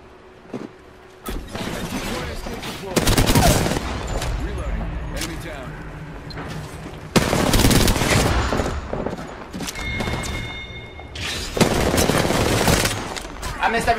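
Automatic gunfire from an Apex Legends match comes in several loud, dense bursts with short gaps between them, and game effects mix in around the shooting.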